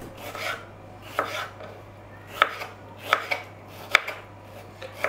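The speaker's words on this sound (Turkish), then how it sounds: "Küp küp olacak şekilde doğrayacağım." A knife dices peaches into cubes on a cutting board, sharp knocks coming every second or so, close up over a low steady hum.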